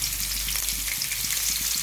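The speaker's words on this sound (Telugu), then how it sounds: "నూనె వేడైంది చేపలు వేసుకోవాలి నూనెలో" Dry fish sizzles and crackles in hot oil, a dense, close and continuous frying hiss throughout.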